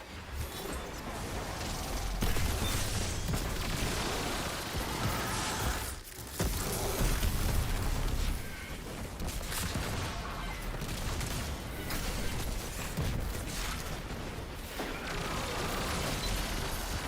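A dense, continuous wash of explosive bangs, pops and gunfire fills the Destiny 2 scene, with a brief dip near six seconds as a flashbang is thrown amid the battle noise.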